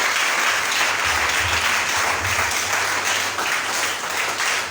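A church congregation at a Sunday service breaks into steady, dense applause, loud and sustained throughout with a faint low hum beneath.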